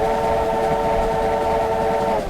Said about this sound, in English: Love that whistle. So it's sort of American style whistle in the UK.